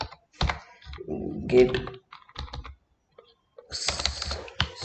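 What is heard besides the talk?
typing HTML code on a computer keyboard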